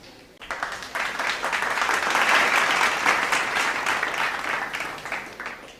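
An audience at a scholarship programme stage event claps, applause starting abruptly and holding strong and dense for several seconds before easing slightly.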